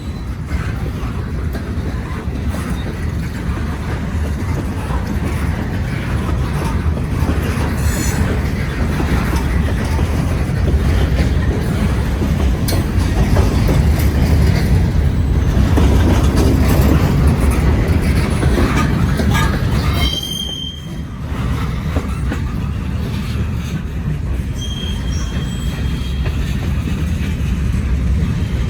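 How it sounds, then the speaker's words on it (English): A loaded steel-coil freight train rolls past, a long, loud, continuous rumble of wagons with brief high wheel squeals near the end and a short dip midway. "the steel coils train, the loaded one."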